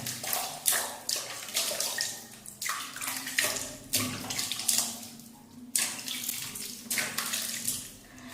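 Plain tap water runs and splashes in a bathroom sink while a green tea clay face mask is rinsed off, with a continuous close flow broken by repeated bursts of splashing as hands scoop water to the face.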